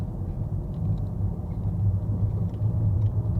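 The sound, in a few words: car engine during driving lesson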